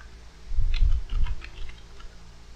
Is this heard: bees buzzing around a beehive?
no